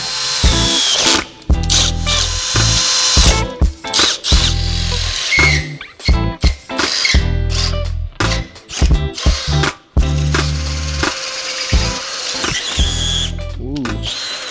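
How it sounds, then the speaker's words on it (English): A power drill bores holes in a steel bracket on a workbench, loud bursts of whining motor and grinding bit that start and stop repeatedly, with short pauses between runs. "we'll take it over to the bench, drill holes in this"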